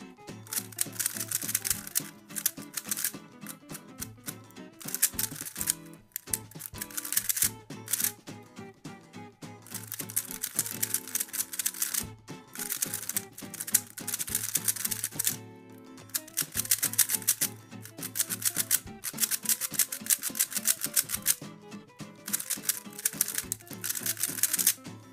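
A YJ Guanlong V3 speed cube is turned rapidly, producing dense, crisp clicking bursts in quick irregular runs with brief pauses, close and loud throughout with no voice.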